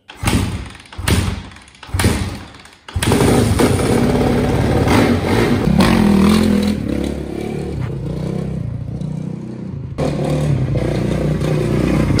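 Motorcycle engine turned over with a few heavy thumps, then catching and running steadily with idling and light revving as riders set off on the ride toward a beach, loud and close throughout.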